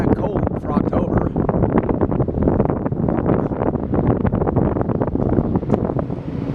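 Steady, loud wind buffets the microphone outdoors beside BNSF railway tracks in Spokane, Washington, on a cloudy, chilly October day, a continuous rumbling roar filling the whole stretch with no clear break.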